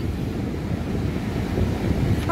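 Sea surf rolls in at Puri beach on the Bay of Bengal, a steady low roar of breaking waves mixed with wind buffeting the microphone, continuous and close, with no talking.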